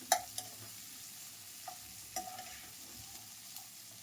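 Potatoes and capsicum roast in a pan with onion, a soft steady sizzle broken by scattered light clicks and scrapes of a stirring utensil.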